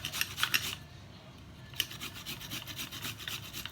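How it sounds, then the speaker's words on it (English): A garlic clove and a piece of ginger ground by hand for a home cough remedy, giving a rough, rasping rub in short repeated strokes, close and fairly quiet, with no talk. "1 clove of garlic, and a piece of ginger. I'm gonna grind it"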